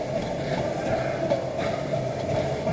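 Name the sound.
train running, heard from inside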